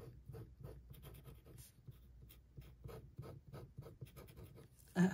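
Scratchy pen nib dragging across paper while swatching ink samples, a quick run of short rhythmic scratches at close range, faint and dry, with a small knock near the end.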